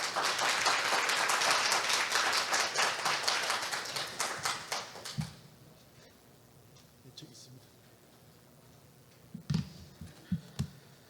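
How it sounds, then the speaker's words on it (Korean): Conference hall audience gives a speaker a warm welcome with loud, dense applause that gradually thins into scattered claps and fades to near silence, followed by a few taps and bumps at a summer academic meeting. "큰 박수로 환영해 주시기 바랍니다."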